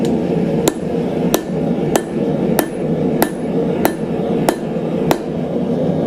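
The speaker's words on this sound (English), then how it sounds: "I can use a normal hammer for it" A hand hammer strikes a steel drift in hot punching at a forge, eight sharp ringing blows at a steady, even pace about two-thirds of a second apart, close and clear over a quiet background hum.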